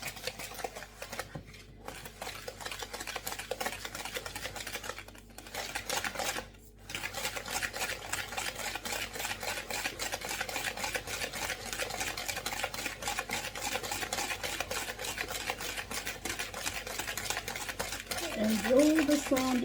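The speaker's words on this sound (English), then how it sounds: "Literally just whisk together, nothing major." A large baker's whisk beating muffin batter in a bowl, a fast, continuous rhythmic clatter of wires against the bowl with a couple of brief pauses, close and fairly loud, with some talking around it.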